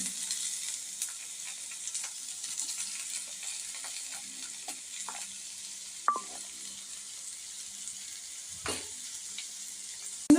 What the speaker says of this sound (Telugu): ఇప్పుడు నేను కొంచెం ఆనియన్ వేసాను ఆనియన్ పచ్చిమిర్చి వేసుకున్నానండి